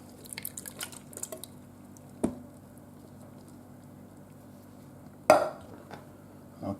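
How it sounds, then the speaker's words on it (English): Canned diced tomatoes going into a Ninja Foodi pressure cooker pot for cheesy spaghetti: a soft wet patter and drip, then a couple of louder splats and a clink of a utensil against the pot, fairly quiet and close. "Let's go ahead and add those diced tomatoes."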